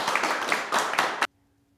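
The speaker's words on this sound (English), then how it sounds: "Let's give her another round of applause." Audience at a community event clapping for a young girl, a full burst of applause that cuts off abruptly after about a second.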